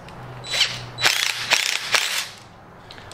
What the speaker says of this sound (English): I was just gonna run that nylock nut down one time with my impact